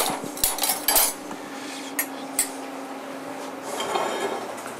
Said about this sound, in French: c'est une cocotte qui sort du four, ôtez le couvercle